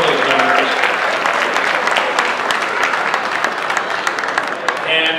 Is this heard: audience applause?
yes